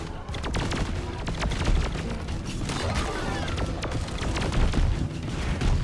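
A flamethrower firing in shotgun-like bursts in a video game, a dense run of rapid, sharp blasts and whooshes repeating throughout, loud and close, with occasional talk underneath.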